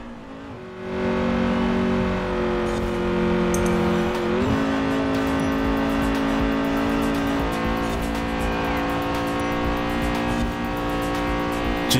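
A car engine drones steadily while driving in Forza Horizon 4, heard from inside a poorly soundproofed cockpit, with a loud sustained hum and a brief shift in pitch partway through.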